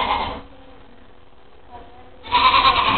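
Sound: llama vocalizing

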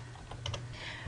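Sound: typing a web address on a computer keyboard

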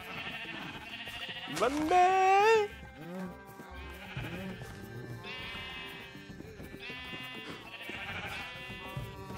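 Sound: sheep bleating in Minecraft video game

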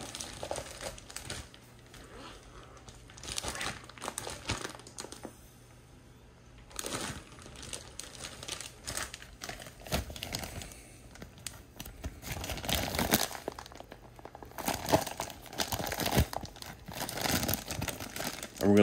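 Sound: plastic bag crinkling as tire is sealed in it

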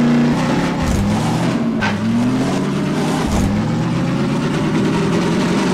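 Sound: car engine while driving in Half-Life 2: Episode 2 video game

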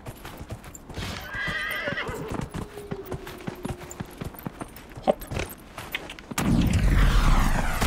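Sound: horse hooves and neighing in video game Dragon Age Inquisition

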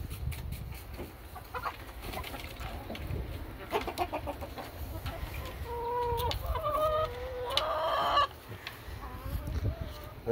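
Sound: hens clucking

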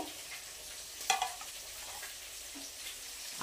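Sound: fish frying in oil

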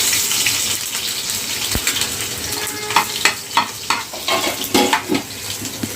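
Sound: garlic, cumin and curry leaves frying in oil

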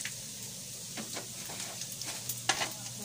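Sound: frying dried fish (daing) in oil

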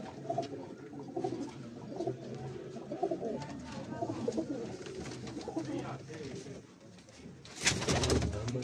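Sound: pigeon cooing

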